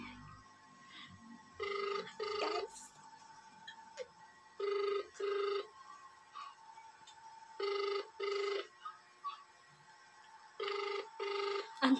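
Phone ringback tone repeating while a call waits to be answered, paired rings in a steady rhythm of about four double bursts, clear and close over a quiet background with faint room noise.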